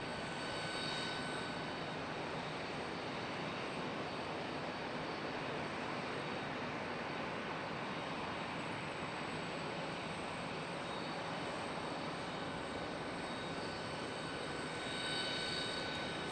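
An airplane arriving at Charlotte Douglas International Airport, a steady broadband engine roar heard from a distance, holding constant throughout with faint tonal whine on top and no voices.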